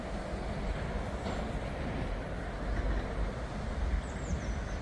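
Outside a train station, a dense rumbling wash of rail traffic and city noise rolls on without pause, steady and moderately loud, with no voices.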